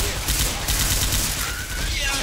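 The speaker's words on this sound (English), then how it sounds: "Hey, explosive rounds!" Rapid gunfire with explosive rounds in Left 4 Dead 2, a dense continuous fusillade of close, loud shots filling the whole moment.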